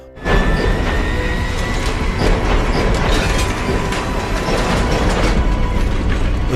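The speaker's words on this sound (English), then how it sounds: "The train leaves the yard for the main line unmanned." Runaway unmanned freight locomotive 777 rolling out of a rail yard onto the main line, loud and close, with continuous rumbling, rhythmic wheel clatter and faint metallic squeal, no voices.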